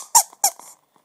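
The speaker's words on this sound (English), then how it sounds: "it's also a squeaky thing." A small squishy Doraemon keychain toy squeaks twice in quick succession, sharp and close, with a softer squeak trailing after and then silence.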